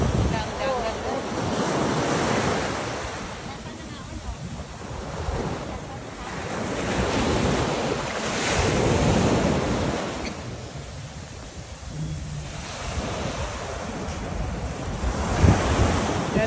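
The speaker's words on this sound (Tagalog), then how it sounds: "Grabe ang dagat ngayon." Rough sea waves crash on the shore at a beach resort, surging and receding in slow swells over steady wind rumble, loud and close.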